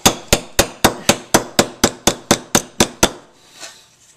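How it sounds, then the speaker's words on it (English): A metal flashlight used as a hammer strikes a nail about a dozen times in an even, quick rhythm, each sharp knock close and loud, before the blows stop and a faint clink follows. "I'm sure if I get another nail, I could hammer another nail with a flashlight"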